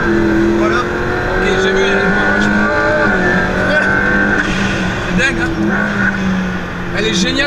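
McLaren P1 drifting, a loud sustained engine drone with shifting revs and tire noise, heard close up with people talking over it.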